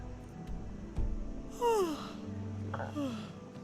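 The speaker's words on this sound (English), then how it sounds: "Stop yawning, you're making me yawn now." A person yawns at a gaming session, a drawn-out breathy moan rising then falling, followed by a second shorter yawn, with faint clicks and room noise around it.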